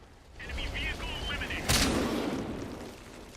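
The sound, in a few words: tank gunfire in a tank video game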